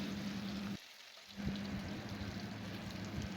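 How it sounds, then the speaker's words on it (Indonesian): Steady, close sizzling from 250 grams of white tofu frying in hot oil, with a brief dip in the crackle partway through before the loud, even spatter resumes. No voices. "Goreng 250 gram tahu putih."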